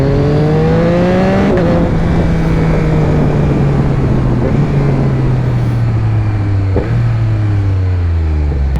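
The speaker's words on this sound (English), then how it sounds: "Get the exhaust, sounds amazing." A 2021 Yamaha MT-09 with a newly installed Akrapovic exhaust runs close and loud, its engine note rising and falling through several revs over a constant throaty rumble.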